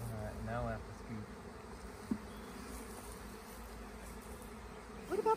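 A swarm of honeybees buzzes in a steady, close drone at ground level as they are scooped up, with faint voices briefly under the hum near the start and end.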